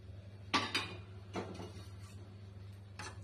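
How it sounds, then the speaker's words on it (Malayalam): A spoon clinks and scrapes against a bowl while bread batter is mixed with salt, green chili and curry leaves, giving a few sharp knocks spaced out over a low steady background hum, with no talking. "വീണ്ടും മിക്സ് ചെയ്ത് കൊടുക്കുക"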